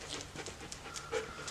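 Dogs panting nearby indoors, rapid rhythmic breaths repeating steadily throughout, close and moderately loud with no talking.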